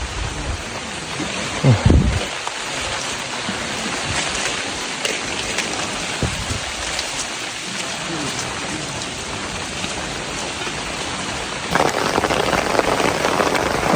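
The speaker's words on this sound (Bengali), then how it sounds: "বৃষ্টি বেড়ে গেল" Heavy rain pours steadily in a reserve forest beside hillside fields, a dense hiss of drops drumming on surfaces, loud and constant, swelling near the end.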